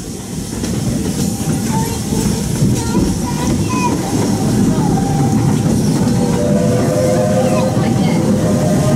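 Steady rumble of the Walt Disney World Railroad train rolling along rails around Magic Kingdom, with faint rhythmic clatter and occasional squeaky tones over a continuous low roar.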